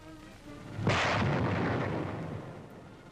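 A 4.2 inch chemical mortar from 1942 fires a single deep, booming round, with the blast rolling out and slowly fading over a couple of seconds.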